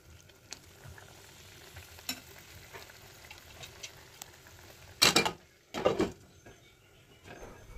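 Fried banana blossom being stirred in a pan on the stove, a faint low sizzle under a couple of louder scraping stirs of the spatula, close by and without talking.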